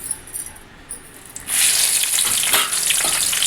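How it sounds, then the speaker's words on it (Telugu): Onions and cashews fry in oil for vegetable biryani. After a quiet second and a half, a loud, bright sizzle bursts in and carries on steadily to the end. "ఆనియన్స్ని బాగా తేమ లేకుండా వేయించుకోవాలి"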